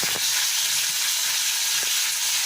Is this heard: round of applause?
no